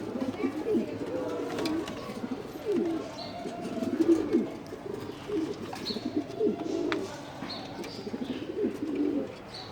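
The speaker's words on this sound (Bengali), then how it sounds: "ওই যে আমার ঘুঘু পাখি হাসতেছে" A dove on a rooftop cooing in repeated low, soft phrases that rise and fall, fairly close, with faint chirps of other birds and a voice speaking now and then.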